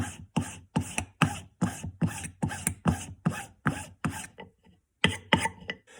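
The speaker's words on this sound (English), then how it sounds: "I can't see underneath that file to know how far down I've gone or whether I'm even filing in the right place" A metal file rasping across a carved wax ring in about a dozen even, rhythmic strokes, close and crisp, with a short pause before the last few strokes.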